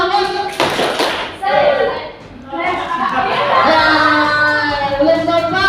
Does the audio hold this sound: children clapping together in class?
yes